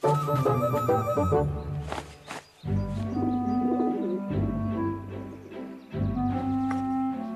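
A pigeon-like bird gives repeated soft, low cooing calls in a steady rhythm, close and clear against light background sounds.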